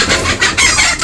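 Native bantam chickens cluck close by in a few quick, loud, raspy bursts in a farmyard.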